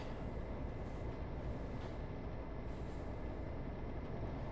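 Local passenger train running on the Great Western Main Line between Oxford and Reading, a steady continuous rumble of wheels and motor heard from on board, with no speech.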